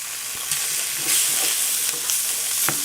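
Jerk-coated tofu sautés in a pan, a steady close sizzle and hiss with a few soft scrapes as the pieces are stirred, and no talking.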